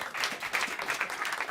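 A live audience at a Dutch football-storytelling stage show applauds a guest author, a dense, steady patter of many hands clapping for about a second and a half with no voices over it.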